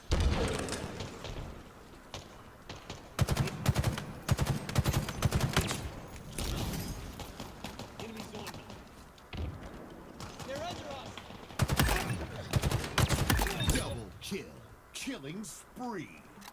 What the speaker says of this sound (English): Look how fast the battle rifle kills.